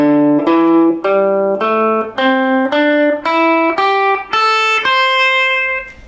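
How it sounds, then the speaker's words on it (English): A guitar plays the blues scale, about ten clear, evenly spaced notes rising one at a time in pitch, each ringing briefly before the next, close and loud with no voice. "So today I'm going to show you what's called the blues scale."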